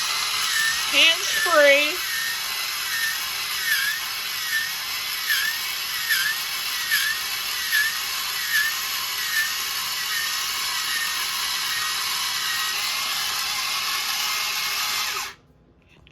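Rotato Express electric potato peeler, powered by mains or batteries, whirs steadily with a high motor whine and rhythmic cutter ticks for about fifteen seconds before stopping abruptly; a voice speaks briefly near the start.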